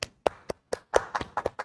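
A few separate, sharp claps from a small studio audience, irregular and close, sparse rather than a full ovation.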